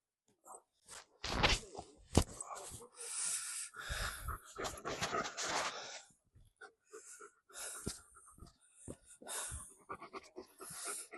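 A dog at a residential training kennel pants and snorts in irregular bursts, close and breathy, with rustling and shuffling movement between the breaths; no clear barking stands out.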